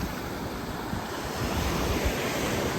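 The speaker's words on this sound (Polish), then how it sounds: "Plaża nazywa się Maenam Beach." Ocean waves wash onto Maenam Beach on Koh Samui in Thailand, a steady broadband surf roar with some wind noise, no talking.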